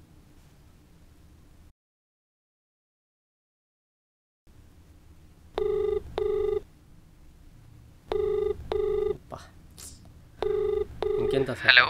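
A phone call rings out in a Telugu short film scene: three double-pulse ringback tones sound clearly and evenly spaced over faint line hiss, after a brief silent gap.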